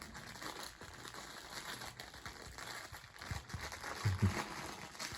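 Soft crinkling and rattling of plastic snack packaging close by, a steady busy rustle with a slightly louder crunch near the end, no talking.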